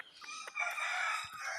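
A tiger-breed domestic rooster crows once, clear and moderately near, with a brief cluck just before it among a small flock of chickens and roosters.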